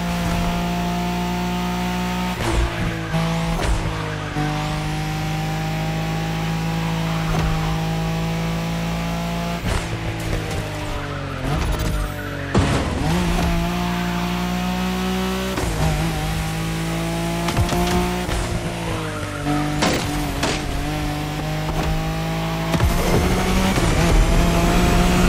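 A Nissan Skyline racing car's engine roars in The Crew Motorfest video game, revving hard through repeated gear changes with sharp shift cuts and a steady loud drone over about twenty-five seconds.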